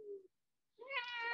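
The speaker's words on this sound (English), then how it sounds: "All right. Cat wants down." A house cat meows to be let down, a short low mew followed after a pause by a longer, louder, rising plaintive meow, close and alone.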